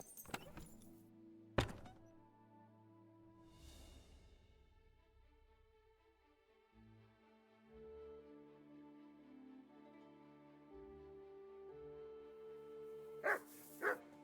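Dog in the Kingdom Come: Deliverance II video game barking in a few sharp bursts amid quiet game ambience and soft thuds.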